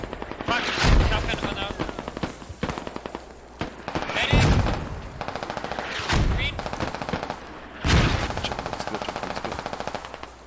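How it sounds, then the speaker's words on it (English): Video game battle with dense machine-gun bursts and heavy booming mortar and gunfire impacts, rapid rattling fire filling the scene, a voice faintly under the din. "Carolean mortars just mortaring absolute hell out of Fortis"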